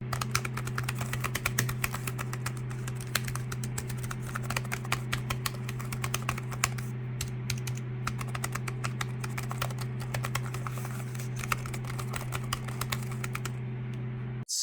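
Steady, quiet typing on an XK01 tri-fold Bluetooth keyboard, a dense run of soft key clicks continuing throughout over a constant low electrical hum.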